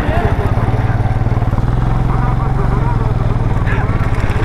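Motorcycles racing along a road make a loud, steady, buzzing engine drone that stays close throughout, with a voice speaking over it.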